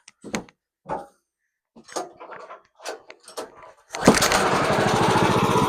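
A wood sawmill engine cranks and catches at about four seconds on the first try, then settles into a loud, steady running drone after a stretch of knocks and handling sounds, used for milling wood siding.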